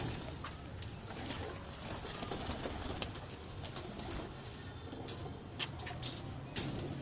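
Pigeons in a fancier's loft, including a male and female pair, coo softly and repeatedly while wings flap in sharp, scattered bursts, close by against a steady background hum.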